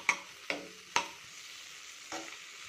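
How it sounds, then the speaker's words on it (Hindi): Masala for a dhaba-style paneer butter masala fries in a pan. A soft, continuous sizzle runs underneath, and four distinct scraping strokes of a spoon stir it, three close together and then one after a pause. "देखिए थोड़ा सा फ्राई हो जाए।"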